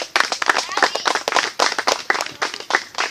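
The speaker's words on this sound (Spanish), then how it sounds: "Démosle un buen aplauso al Señor" Congregation clapping in a church service, a dense patter of handclaps with scattered louder claps, mixed with voices throughout.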